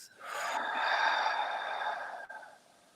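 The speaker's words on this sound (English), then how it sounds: "Breathe in through the nose as you exhale through the mouth" A single slow breath drawn in through the nose and let out through the mouth during a guided meditation, a soft airy rush lasting a couple of seconds, close and clear with no talk over it.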